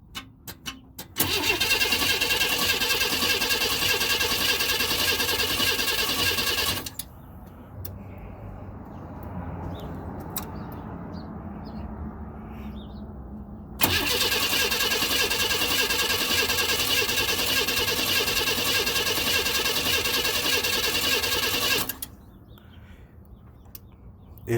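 A 1992 Chevrolet Camaro RS cranks without starting, fitted with a new fuel pump, filter, plugs, cap, rotor and injectors: two long, loud, steady whirring spells of starter cranking with a quieter pause between them and no firing.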